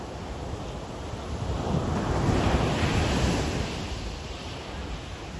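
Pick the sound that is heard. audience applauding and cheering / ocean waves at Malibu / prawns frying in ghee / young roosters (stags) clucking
ocean waves at Malibu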